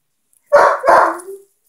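Two loud, close barks from Tonka, a one-year-old dog, the second trailing into a short whine, then quiet.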